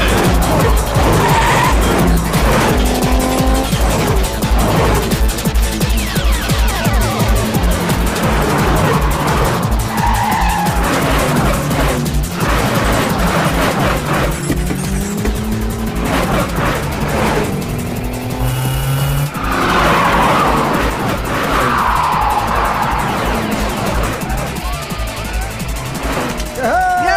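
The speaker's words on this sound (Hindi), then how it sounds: "कभी लाल गाड़ी आगे जा रही है तो कभी काली वाली और पीली वाली गाड़ी लगातार आगे बढ़ी हुई है।" Race cars tear around a track in a dubbed South Indian action film race, engines roaring loud and continuous, with repeated tire skids and squeals rising over a dense dramatic mix.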